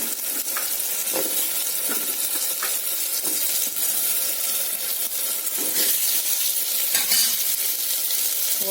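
Cut drumstick (moringa) pieces hit hot oil in a frying pan for sambar and are stirred, giving a steady loud sizzle broken by scraping and clinking of the stirring spoon, with no talk.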